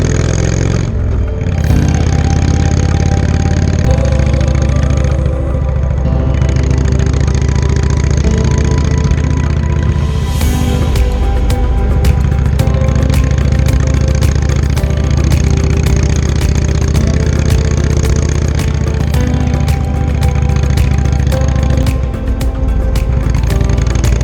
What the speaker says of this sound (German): Heutzutage müht sich nur noch der Motor ab.